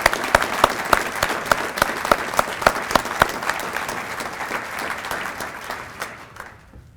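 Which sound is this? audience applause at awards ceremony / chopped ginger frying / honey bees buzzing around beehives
audience applause at awards ceremony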